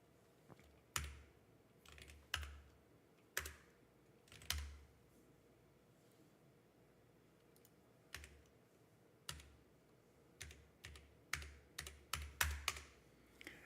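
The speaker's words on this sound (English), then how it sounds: "And I am typing on it and nothing happens." Typing on a computer keyboard while working on a serial port setup: sparse, scattered key clicks close by, with isolated presses early on and a quicker burst of keystrokes toward the end in a quiet room.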